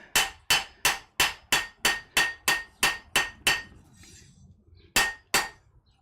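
A blacksmith hammers metal smooth in a damp smithy with the fire lit: about a dozen quick, evenly spaced ringing strikes, a short pause, then two more blows, all close and loud with no talk.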